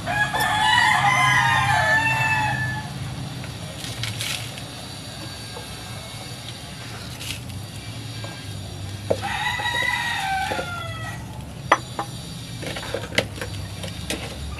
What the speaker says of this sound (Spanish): esos gallos que no dejan de cantar